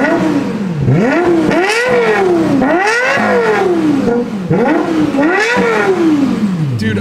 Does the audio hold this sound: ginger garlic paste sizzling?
no